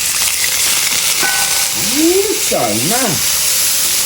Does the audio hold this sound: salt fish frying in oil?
yes